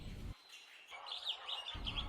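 Parrot-family birds, macaws, give bright chirping calls in a few short bursts, moderately loud, separated by brief quiet gaps.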